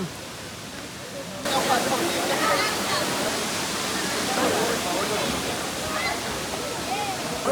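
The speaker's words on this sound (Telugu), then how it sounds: "చూడండి వాటర్ ఫాల్స్" Waterfall at Dandeli, a loud, steady rush of falling water close by that swells in after a brief quieter start and continues without a break.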